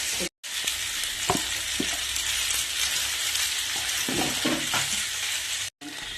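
Pasta seasoned with coriander powder and chilli frying in a pan: a continuous close hiss of sizzling with scattered clicks and scrapes of stirring, and two brief cuts to silence.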